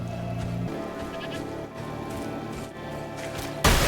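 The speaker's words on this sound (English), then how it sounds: "I knew I was gonna kill those goats" A few goat bleats from the game Diablo IV sound over a low game backdrop, ending in a sudden burst of loud noise.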